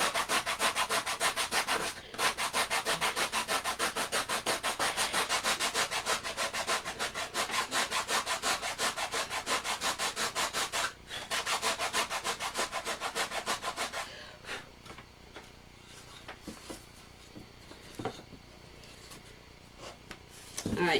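A sanding sponge with 120 grit sandpaper rubs back and forth over wood for a simple wall shelf, a steady, close scratching rhythm that runs for most of the stretch and then breaks into short, sparse strokes.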